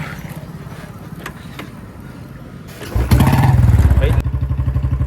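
A motorcycle is kick-started at night on a road near Ludhiana, with a few kicks before the engine catches and settles into a loud, close, pulsing idle.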